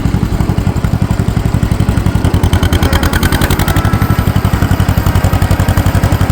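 A 1950 John Deere M tractor engine labors uphill while planting oats, chugging loud and close in a fast, even, rhythmic beat that holds steady throughout.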